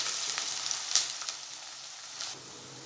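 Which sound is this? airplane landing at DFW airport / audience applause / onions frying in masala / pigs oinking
onions frying in masala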